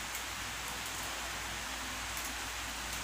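A constant wash of falling rain hisses on and on at an even level, with faint pattering texture and no speech.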